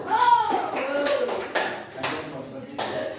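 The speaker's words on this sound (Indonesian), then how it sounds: "Berikan aplaus dulu" A classroom gives brief applause, with scattered hand claps and taps arriving in several short bursts over a voice talking through most of it.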